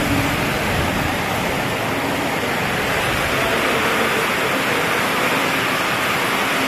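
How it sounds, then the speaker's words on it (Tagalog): Heavy rain pouring down as a dense, steady, loud hiss with no letup, close and enveloping, no voices. "Lakas po ng ulan."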